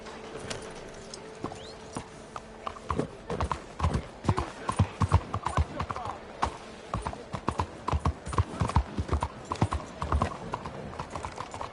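Horse hooves clip-clopping at a steady trot in the Red Dead video game, close and fairly loud, with occasional snorts over a low ambient background and no talking.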